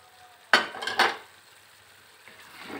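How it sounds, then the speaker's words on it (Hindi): Half a kilo of chicken is stir-fried with masala in a pan over a high flame: two quick clanks of a spoon against the pan, then a faint, low sizzle close by. "फ्लेम तेज़ कर देंगे हाई और मसाला के साथ हम इसे भून लेंगे चिकन"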